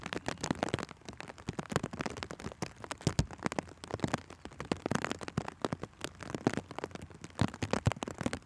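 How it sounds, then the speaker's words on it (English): Rain at Gloucestershire airport patters steadily and closely, a dense run of sharp drop impacts with no talking. "Hopefully the rain passes over soon enough."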